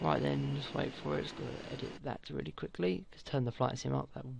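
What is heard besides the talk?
No everyday noises stand out.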